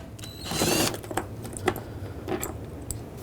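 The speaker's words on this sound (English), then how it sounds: "Remove this with a T25 Torx bit." A T25 Torx bit turns out a cargo hook near the lift gate at the back of a 2008-2020 Dodge Grand Caravan, giving brief close ratcheting and metallic clicks in a quiet interior.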